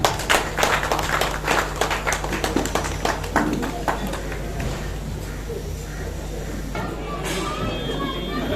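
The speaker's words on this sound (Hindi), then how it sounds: "जोरदार तालियां।" Applause at an Independence Day event in a hall, a burst of many clapping hands loudest at the start and thinning out over several seconds as voices murmur underneath.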